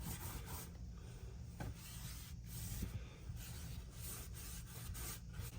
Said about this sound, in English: I'm just using a wet wipe to get a lot of it off.